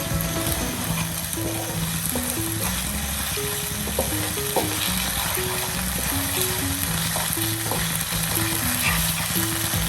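Onions fry in a pan over a full flame, a steady close sizzle with stirring, while background music plays throughout.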